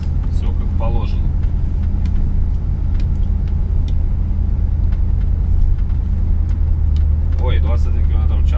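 A car rolling slowly through a factory site, a steady low engine rumble and road hum filling the whole stretch, close and constant, while someone talks over it.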